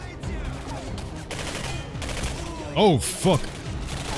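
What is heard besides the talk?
gunfire from a gun in the video game Singularity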